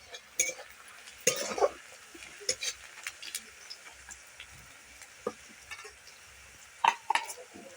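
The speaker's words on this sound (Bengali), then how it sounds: "আদা রসুনের পেস্টটা দিয়ে দিচ্ছি।" Ginger-garlic paste added to a frying pan for chilli chicken, scattered clicks and scraping stirs over a faint low sizzle, close and quiet with a voice briefly under it.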